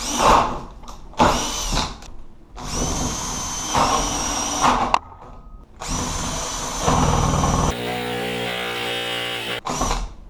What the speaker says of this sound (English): You want to drill slow at the beginning till it starts to bite in.